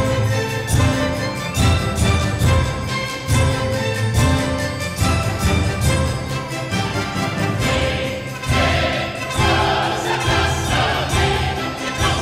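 Orchestra and chorus in a Mozart chorus from The Abduction from the Seraglio, using the exotic sharp fourth, swelling full and continuous with dense sustained harmony and rhythmic accents throughout.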